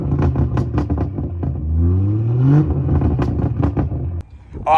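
BMW B58 engine with its exhaust burble mode on, revving loudly up and down in a few strong pulls, with crackling pops between the revs, close and alone.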